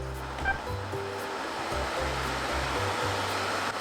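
A Daikin Carrime portable air conditioner runs at maximum power, giving a steady, loud rush of fan noise with a low motor hum under it, constant and close.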